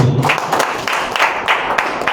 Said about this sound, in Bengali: তাদের জন্য আরেকটা জোরে করতালি